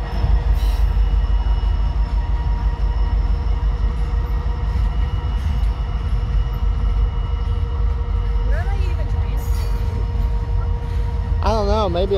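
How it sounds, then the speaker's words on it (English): A train rumbles past with a steady low roar and metallic rail noise, ending in a brief squeal or horn-like warble; no speech is heard. "Trains are so cool though."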